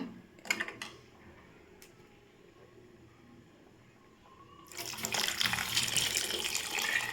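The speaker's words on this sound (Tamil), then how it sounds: "இப்போ நம்ம தேவையான தண்ணி சேர்த்துக்கலாம்" Water trickles and splashes quietly, then a louder, steady pour of water into a tamarind curry of elephant foot yam starts and keeps running for a few seconds.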